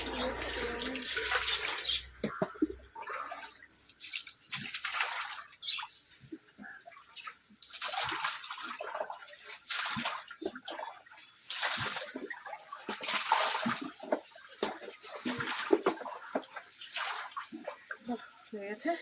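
Water splashes and pours while the tap area of a yard is washed down, uneven sloshing bursts and spattering across the whole stretch, with brief moments of quieter dripping between them.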